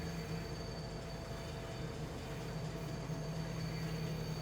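A train in the video game Farming Simulator 25 rumbles steadily with a low engine drone and faint high mechanical whine, continuous and moderately loud, with no one talking.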